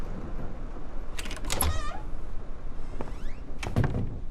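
A door in a video game slides open with a mechanical whir and clunk, followed by faint rumbling and a second burst of sliding noise a few seconds later.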